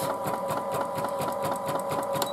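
A sewing machine stitches a quilted mug rug with a steady, rapid, close mechanical chatter and motor whir throughout.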